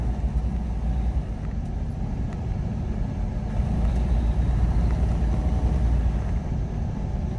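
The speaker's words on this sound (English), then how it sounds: "Traffic everywhere." Steady city traffic rumbles in Chicago, a dense continuous roar of cars and trucks passing nearby with no break in the low engine drone.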